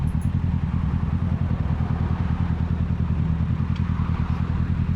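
A 2020 Kawasaki Ninja 650 motorcycle engine running steadily, a loud, close, continuous throbbing idle with mechanical clatter and no voices.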